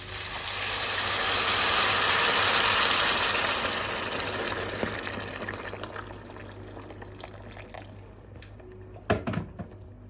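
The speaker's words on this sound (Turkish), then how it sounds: "Şimdi suyumuzu ilave edeceğiz." Water is poured into a cooking pot of beef entrecote stew, making a loud rushing hiss that peaks early and then gradually fades, with a few light clatters near the end.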